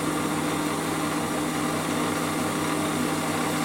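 Small Warco lathe taking a light skim cut across a face, a steady even motor whine with a constant hum, close and unbroken for the whole stretch.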